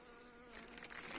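Soft, steady buzzing of a honeybee winter cluster inside a hive, a low continuous hum that swells slightly near the end.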